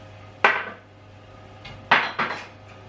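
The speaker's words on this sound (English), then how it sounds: "we're going to take all the yolk and put them into the mayonnaise" Egg yolks scooped into mayonnaise in a clean mixing bowl for deviled salmon eggs, heard as three or four sharp clinks of a utensil against the bowl between quiet pauses.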